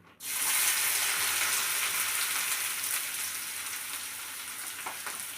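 Sliced onions hit hot oil in a pan for mushroom gravy, bursting into a loud, close sizzle that holds steady and slowly eases, with faint stirring near the end and no speech.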